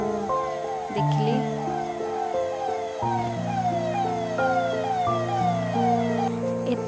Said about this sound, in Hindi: तो सेतेबेले गाड़ी साइरन बाजिला।